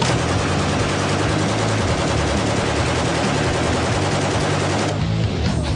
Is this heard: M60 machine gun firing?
yes